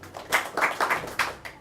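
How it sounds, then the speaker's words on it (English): A debate audience gives a brief round of applause, a few clustered bursts of hand claps close by that rise and fall unevenly. "A round of applause for him."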